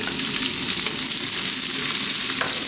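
Sliced red onions hit hot oil in a wok for chicken chow mein, producing a loud, continuous close sizzle with a few faint stirring clicks and no talk.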